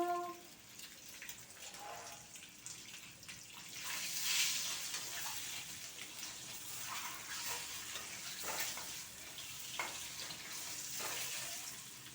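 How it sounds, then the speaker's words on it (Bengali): Eggs frying produce a faint, steady sizzle with soft crackles and occasional clinks of a utensil against the pan. "ডিমগুলোকে লাল লাল করে ভেজে নেব।"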